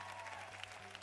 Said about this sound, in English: let's give Trash Panda a round of applause